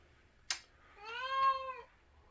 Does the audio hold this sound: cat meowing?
yes